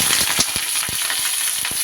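Cauliflower florets frying in hot mustard oil, a steady bright sizzle with crackling pops scattered throughout, close and continuous, no voices.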